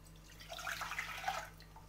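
Milk, half a litre, pours into a pot for a homemade cake, a soft, steady liquid splash and trickle running close and quiet for a couple of seconds without talk.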